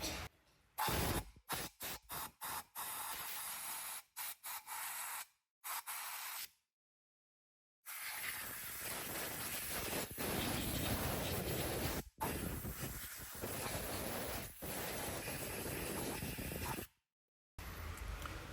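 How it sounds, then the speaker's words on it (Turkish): Compressed air blasts into the spark plug well of a VW Golf 6 TSI engine, loud hissing bursts of varying length broken by sharp gaps and a few brief silences, close up. "ilk önce bujiyi sökmeden buraya güzel bir havayla temizlik yapıyoruz"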